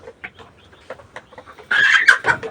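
Laying hens on a small hobby poultry farm cluck in short, scattered calls close by, then burst into a louder, busier stretch of clucking toward the end.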